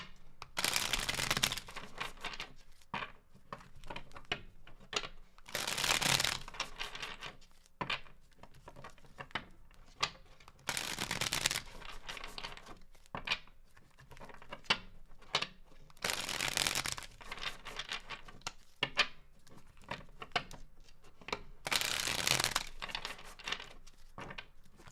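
Tarot cards are shuffled in repeated bursts, crisp riffling rushes every few seconds with quieter handling and taps between them.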